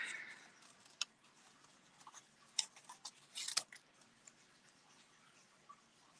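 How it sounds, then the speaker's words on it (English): Scissors cut paper in a quiet room, giving a handful of faint, sharp snips that cluster in a short burst midway before things go still again. "Now I'm going to cut that one out."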